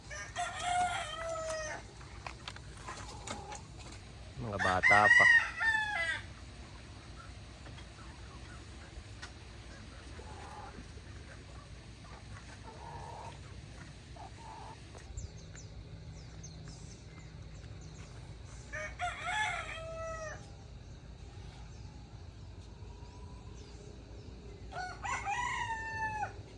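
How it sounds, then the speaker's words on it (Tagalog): Roosters being fed crow several times at a moderate distance by a milkfish pond, with bursts around the start, middle and end over a quiet farmyard background, and a brief voice speaks. "Papakain naman siya ng mga tandang."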